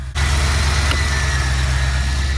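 A 1988 Corvette engine settles into a steady idle right after starting, a loud, even low rumble close by with a constant vibrating drone and no voices.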